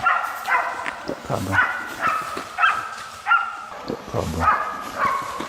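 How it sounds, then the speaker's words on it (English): Hunting hounds barking during a wild boar hunt, a repeated series of sharp, fairly close barks and yips in an irregular rhythm against outdoor background noise. "The barking of the hounds signaled that the target was getting close."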